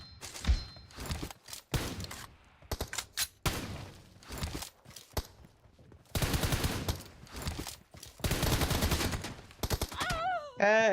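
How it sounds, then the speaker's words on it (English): Gunfire in PUBG Mobile: rapid automatic bursts and single shots, some long sustained volleys, loud and close, with a short rising-falling game tone at the end. "Shots! Reloading!"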